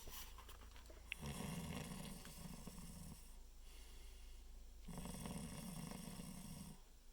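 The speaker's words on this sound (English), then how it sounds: "Teeny tiny snoring." Soft snoring in two slow, drawn-out breaths a few seconds apart, each a low rasping rumble with quiet pauses between, faint and close.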